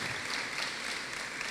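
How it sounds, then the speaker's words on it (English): A school ribbon-cutting audience gives a round of applause, a steady wash of clapping that stays even and moderately loud for the whole moment, with no voices over it. "give a big round of applause to Eric Gordon"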